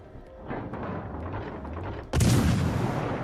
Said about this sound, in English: He's firing HE at us.